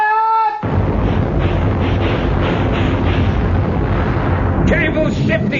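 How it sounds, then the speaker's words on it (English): A ship's cannon fires as a radio drama sound effect, a tone cutting off into a loud, sustained booming roar that rumbles for several seconds before a faint tone returns near the end. "Tell Mr. Hornblower to fire his guns when ready, Mr. Bush."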